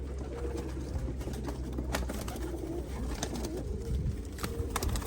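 Soft pigeon cooing repeats over a steady low hum of room noise, with scattered rustles and taps nearby.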